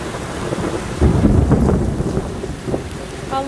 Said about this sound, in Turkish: Çok iri iri dolu yağdı.